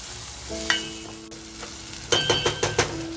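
Mutton fat frying in a pan for shahi mutton, a soft sizzle under ringing metallic clinks and a quick run of spoon scrapes and taps against the pan toward the end, no speech.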